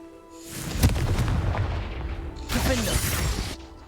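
Hogwarts Legacy's Confringo blasting spell goes off with a booming, crackling burst, followed moments later by a second blast of roaring noise, both close and loud over a low game hum.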